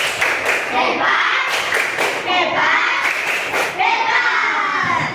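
Schoolchildren in a classroom clap a quick patterned rhythm together, loud and close, with children's voices shouting and chanting along between the claps.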